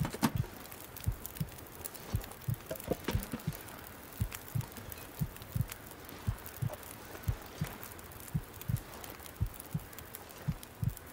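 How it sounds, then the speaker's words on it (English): A heartbeat thumps in a soft, steady, regular rhythm of low double beats, faint and continuous throughout with a light hiss behind it. "My heartbeat."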